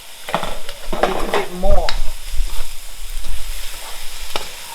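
Tofu and broccoli stir-frying in a pan, with a spatula scraping and clattering in quick irregular strokes over a soft sizzle, close up, as a voice briefly speaks.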